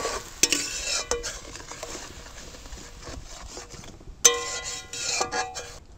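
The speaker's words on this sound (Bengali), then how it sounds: "এবার নাড়াচাড়া করে এটাকে ভালো করে কষিয়ে নেব।" Salt, pepper and soy sauce are added to a mixture for veg momos and stirred in a pan with a spoon, giving intermittent scraping and clacking against the pan over a soft sizzle, with two sharp knocks.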